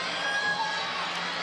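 Spectators at a 2015 NCAA women's gymnastics regional meet cheer and shout in a loud, continuous burst of crowd noise with high voices mixed in.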